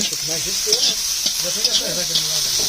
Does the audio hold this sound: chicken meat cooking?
yes